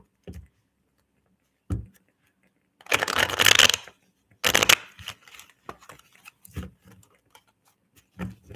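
Tarot cards being shuffled at close range: a quick riffle of papery flutter in two bursts, framed by soft taps and handling clicks, with no voices.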